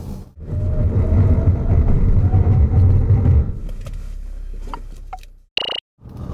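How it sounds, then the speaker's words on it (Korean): A Ssangyong Korando 1.5T runs through a braking test, with a loud steady engine and road rumble that fades as the car slows to a stop, followed by faint ticks and a brief sharp tone. "이번에는 제동 성능을 한번 알아보겠습니다"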